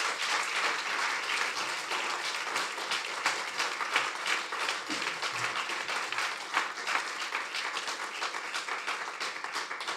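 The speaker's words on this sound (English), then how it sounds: "Can we please have a huge round of applause?" Audience applause at an Indo-French legal and business conference, greeting the keynote speaker: dense, steady clapping from a large crowd that holds at an even level for the whole stretch, with no voices over it.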